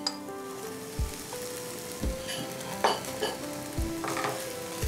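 Cooked whole wheat pasta tossed into a hot pan and stirred, a steady sizzle broken by several soft knocks and scrapes of the spoon against the pan, with no talking.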